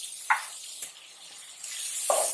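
Mutton keema sizzling in a pan after whole coriander and green chilies go in, a steady hiss of frying with a few sharp crackles and spatters near the start and end.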